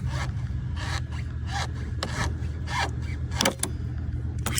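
A car coolant hose clamp being squeezed and the hose wiggled off, giving repeated short rubbing and scraping strokes in an irregular rhythm with a few sharper clicks, close up over a low steady hum; no talking.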